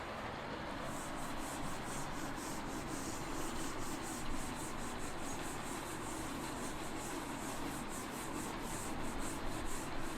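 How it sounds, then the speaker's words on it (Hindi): Writing being rubbed off a board with a duster during a maths lesson, a continuous close scrubbing noise with quick regular back-and-forth strokes, no voice over it. "इसको मैं रब करता हूँ"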